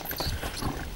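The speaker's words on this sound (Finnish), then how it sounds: "Hevonen on. Siinä kölökyttää menemään." Horse hooves clip-clop at a brisk walk, a few close, uneven thuds in quick succession on a working-horse outing.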